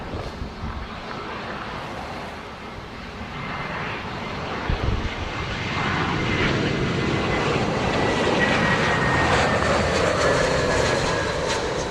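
Southwest jet airliner departing from runway 07 in a 17-knot wind: a broad distant engine roar mixed with wind rumble, swelling louder over the second half and sustained to the end.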